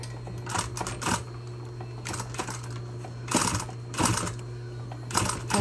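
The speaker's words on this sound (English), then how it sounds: "you just sew in your body about a 1/4 inch seam all the way around" Domestic sewing machine stitching a quarter-inch seam around a plush toy body, heard up close in repeated runs of steady mechanical chatter broken by short pauses, over a constant low hum, with no voices.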